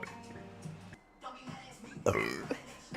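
A person lets out a series of deep, croaky belches, with a louder, rougher burst near the end and short quiet gaps between the sounds.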